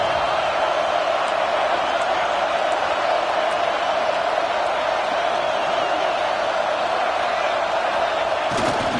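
A big football stadium crowd roars to urge on the defense near the goal line, a dense, steady wall of cheering that holds at full strength from start to finish.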